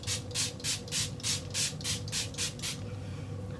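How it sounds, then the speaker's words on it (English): L.A. Colors setting spray is misted onto a face in about ten quick, evenly spaced hissing spritzes, close and crisp, before the spraying stops. "And this is the setting spray, and I love this setting spray."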